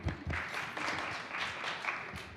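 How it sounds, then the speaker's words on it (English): A short burst of clapping from a group, steady and fairly close, lasting a couple of seconds. "Yes, yes, we can clap."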